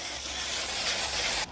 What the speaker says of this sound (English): I then normally just give it a spray down with a sort of lubricant spray, WD-40,